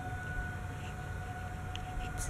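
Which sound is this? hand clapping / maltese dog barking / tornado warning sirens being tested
tornado warning sirens being tested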